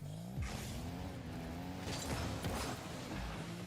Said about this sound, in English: I can hear a blue car